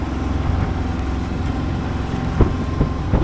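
A sailboat's engine drones steadily with a low, constant rumble while motoring into a headwind, punctuated by a few brief knocks and thumps toward the end.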